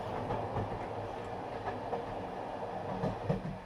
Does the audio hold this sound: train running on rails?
yes